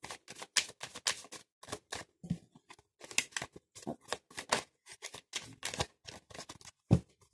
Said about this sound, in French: J'étale les cartes et je vais donc en tirer 4 pour faire un tirage en croix.